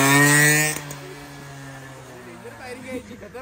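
A motorcycle fitted with an original 135 silencer revs loudly and buzzily for under a second, then the engine note falls away, leaving quieter background sounds and nearby talk.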